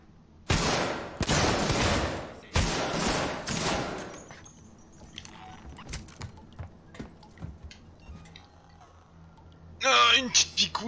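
Bursts of video game gunfire ring out in two long, loud rapid volleys near the start. Quieter scattered shots and clatter follow, then a short loud burst at the end.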